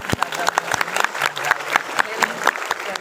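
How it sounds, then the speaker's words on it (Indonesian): An audience at a school's 40th-anniversary religious gathering at SMA Negeri 1 Sukorejo gives a short round of applause, sparse distinct claps over a murmuring crowd. "saya minta tepuk tangan dulu"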